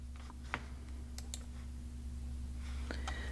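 Sparse mouse clicks in quiet while selecting an item in the Tenable interface: a sharp click near the start, a couple more soon after, and another pair near the end.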